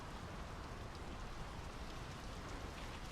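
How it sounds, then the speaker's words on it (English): Steady rain falls in the video game Draugen at a Norwegian fjord village, a soft, even hiss of drops on surfaces, faint and continuous with no talking. "The rain's picking up."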